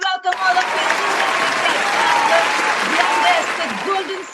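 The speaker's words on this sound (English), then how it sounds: "Let's have a big round of applause as we welcome all of you" Sustained audience applause at the Yotta Golden Circle Partner Excellence Awards ceremony, a loud, dense wash of clapping with cheering, faint voices running beneath it.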